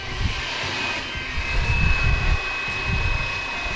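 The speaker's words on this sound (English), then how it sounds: "the helicopter is coming toward me because the wind is pushing it" A Flywing BO 105 RC model helicopter hovers and drifts in the wind, its rotor producing a steady whine with gusty low rumble from wind on the microphone, moderately close, without speech.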